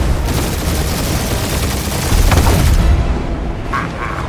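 Loud, continuous gunfire blasts away at ships in a Guardians of the Galaxy video game, dense rapid shots mixed with booming impacts and explosions, ending with a few sharper final shots.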